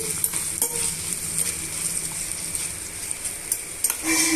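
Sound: ivy gourd pieces being mixed and fried

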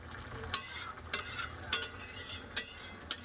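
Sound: potato and tomato curry boiling on high gas

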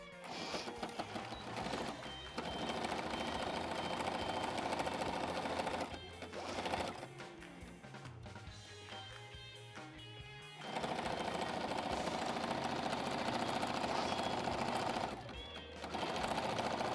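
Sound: sewing machine stitching fabric

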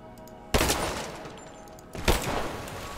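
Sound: gunshots in the video game Rise of the Tomb Raider

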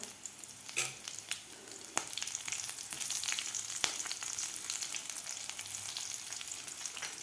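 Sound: green chillies frying with garlic and cumin paste

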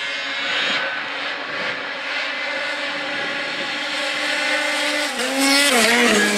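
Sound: turbo snowmobile accelerating at drag race start

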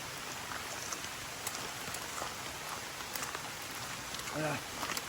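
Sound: heavy rain falling in the forest

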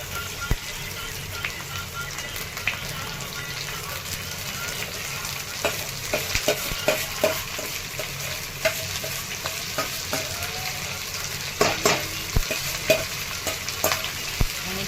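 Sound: stuffed green chillies frying in oil

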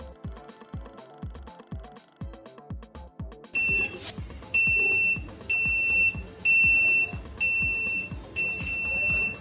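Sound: onboard buzzer alarm of ultrasonic sensor flood detector

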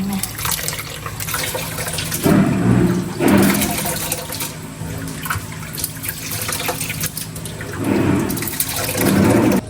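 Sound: draining water from soaking santol fruit

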